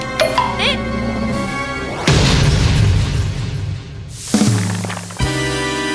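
A comic boom effect representing a toy pen grenade going off, a burst of broadband noise that swells and lingers for a few seconds amid a busy musical and tonal backdrop, with another loud hit near the end.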